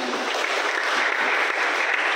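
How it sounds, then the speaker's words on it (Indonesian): An audience claps during a church service celebrating Tulude, a dense, steady patter of applause sustained throughout without a break. "Beri tepuk tangan lagi."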